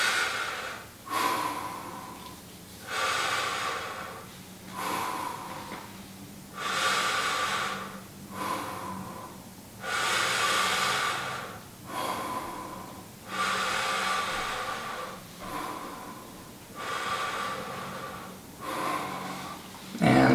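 A person breathes during a seated stretching exercise, with slow, even breaths close to the mic. About seven deep inhale-exhale cycles rise and fall rhythmically, some with a slightly nasal, snorting edge.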